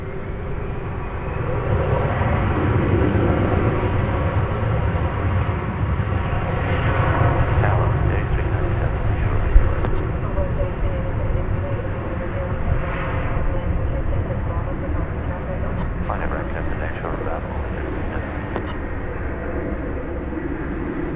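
An airliner takes off at DFW Airport, its jet engines producing a steady broad roar that holds for about twenty seconds at a moderate distance, with faint radio chatter underneath.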